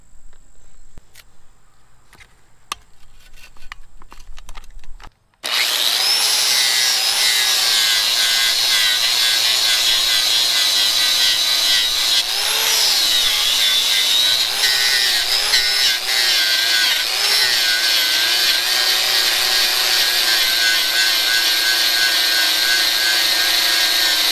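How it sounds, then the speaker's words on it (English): After a few seconds of near silence, a power grinder running off an Itehil IT500 500-watt portable power station starts up with a loud, steady, high-pitched whine that runs on without stopping, close by. "we were able to use our grinder"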